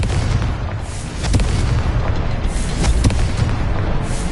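Confringo blasting curse exploding in Hogwarts Legacy, a heavy booming burst with rumbling low-end blasts that swell and repeat over a few seconds.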